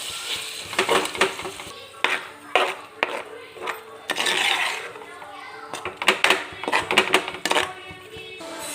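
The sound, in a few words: stirring prawn curry with ground coconut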